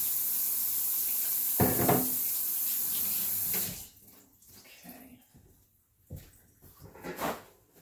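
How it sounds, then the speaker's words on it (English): Hands washed under a running tap while roasting homegrown butternut squash: a steady rush of faucet water for about three and a half seconds, then it stops and is followed by quieter splashes, rubbing and a few knocks. "Let me wash my hands very quickly. Just give them a quick little washing."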